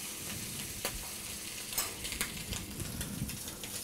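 Scallops sear in butter in a pan, a steady close sizzle with crackling spitting and a few sharper pops, with no voices over it.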